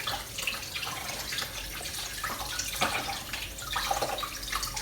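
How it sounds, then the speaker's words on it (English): Hands are rinsed under a running tap to clear away breadcrumb-like scone dough residue, a steady close splash with uneven rubbing and patting surges and no voices. "wash your hands to get all like the residue off"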